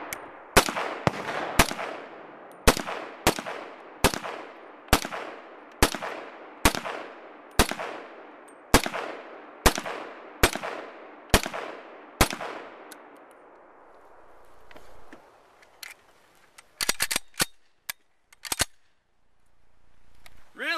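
An M1 carbine is fired in a steady run of about fourteen sharp, loud single shots at a regular pace. A few faint metallic clicks and clinks follow once the shooting stops.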